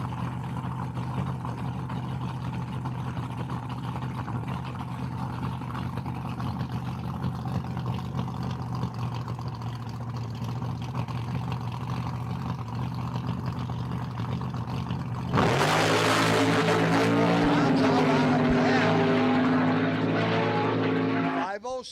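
Supercharged AA gasser drag cars with small-cubic-inch engines, 671 blowers and magnetos at a dragstrip, a steady distant engine drone under an announcer's voice that surges into a loud roaring blast as the cars launch.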